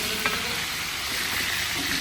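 Padma hilsa fish sizzles and crackles in hot oil, a dense continuous frying hiss heard up close.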